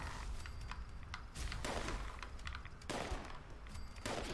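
Enemy gunfire in Fallout 76, bursts of rapid shots in repeated volleys with brief pauses between them, loud and close.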